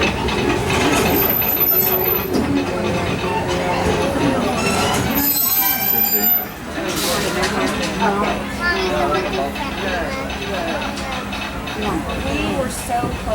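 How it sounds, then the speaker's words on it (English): Disneyland Railroad train running on its rails, a steady rumbling roll with a brief squeal of wheels partway through, heard close and continuous while a voice speaks over it. "welcome aboard the Disneyland Railroad"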